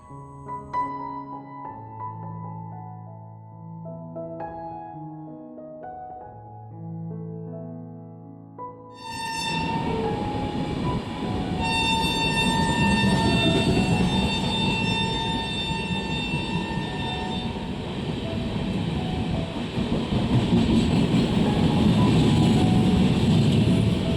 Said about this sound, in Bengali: আর এই যে মালগাড়িগুলো যাচ্ছে না